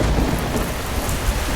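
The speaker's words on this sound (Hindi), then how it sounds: "तीनों तेज बारिश में रंगा के घर पहुंचे।" Heavy rain in a Hindi cartoon pours steadily with a deep low rumble of thunder underneath, dense and continuous with no voices.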